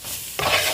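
Flour is stirred into sausage grease in a hot pan, with a brief scraping stir that swells into a loud, close sizzle.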